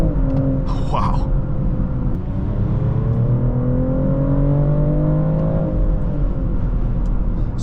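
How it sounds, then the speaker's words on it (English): A 2024 BMW X5 xDrive50e accelerates hard from inside the cabin, a steady, loud rising drone with whirring tones climbing in pitch, and a brief voice near the start. "when you're driving normally and you just give it some gas, it just rockets out."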